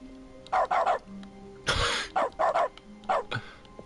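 A dog barks in dog mode of The Stanley Parable, a video game, giving several close, loud barks in short pairs and triplets, with one longer noisy burst in the middle.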